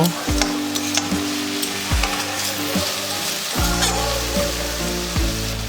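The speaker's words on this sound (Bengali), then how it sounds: "একটু ভালো মতো নাড়াচাড়া করে মাছের মাথাটাকে সব কিছুর সঙ্গে মিশিয়ে নেব" Fish head and squash stirred in a sizzling cooking pan, with repeated utensil scrapes over a continuous close frying hiss.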